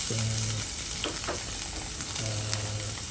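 Garlic and onion sizzle and crackle in hot oil in a pan while being fried for chicken adobo. The steady frying hiss runs the whole time with a few stirring clinks and scrapes.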